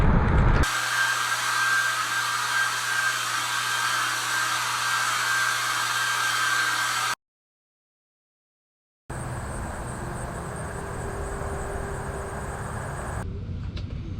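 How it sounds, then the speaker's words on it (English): A hair dryer drying shoes and clothes in a hotel room blows with a steady, loud whir and tonal hum, cuts out for about two seconds, then starts again and runs on. "Some soap and a hairdryer later, and my shoes and clothes were dry"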